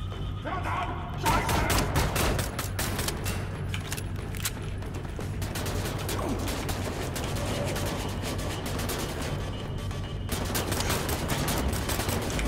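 Pistol gunfire in Wolfenstein The New Order crackles as rapid clustered shots and sharp metallic clicks over a continuous noisy battle bed, with a quieter stretch near the end before more shots.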